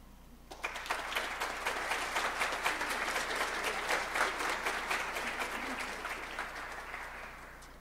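Audience applause at a women's event book presentation, a dense steady wash of many hands clapping that starts abruptly after a brief quiet moment and holds loud and even throughout.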